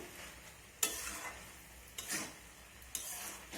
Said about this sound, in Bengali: এখন চিনি গরম মশলাটা ভালো করে মিশিয়ে নেব